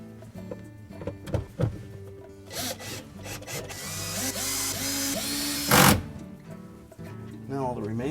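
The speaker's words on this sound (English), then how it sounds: "we can reinstall the 6 number 20 Torx screws" A power driver whirs in short bursts as six number 20 Torx screws go back into a Whirlpool dishwasher during a seal and chopper kit repair. Someone talks over the work, and there are clicks and handling noises.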